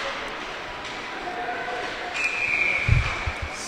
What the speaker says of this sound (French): C'est sifflé.